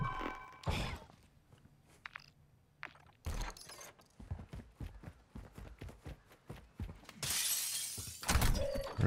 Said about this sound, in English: Really shouldn't be breaking glass because you can hear from so far away.